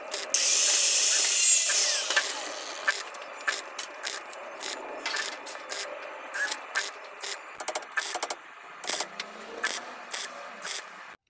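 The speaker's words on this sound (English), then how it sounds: "I will be welding in the other side" Welding a repair panel into a car body during an EV conversion, a string of short crackling bursts from stitch welding, repeated irregularly after an opening hiss, close and fairly loud.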